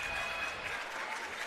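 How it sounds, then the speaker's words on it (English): Crowd in a high school basketball gym applauding a player as she leaves the game, a brief dense wash of clapping heard from the stands, steady and moderately loud. "Heaven Bailey making her exit to a round of applause"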